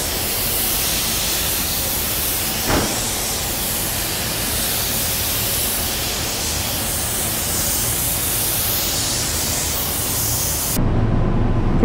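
Clear coat being sprayed onto a car from a paint gun gives a continuous loud, broad hiss lasting nearly the whole stretch, with a brief knock early on and an abrupt change near the end.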